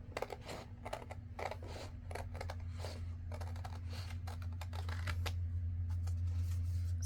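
Scissors snipping paper envelopes to cut out pockets for crafting, a quick run of crisp, close cuts and rustles over a low steady hum.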